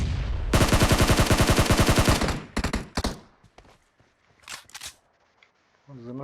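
Rapid automatic gunfire from a video game, a loud sustained burst of closely spaced shots followed by a few shorter bursts and scattered single shots, fading into quieter game sounds.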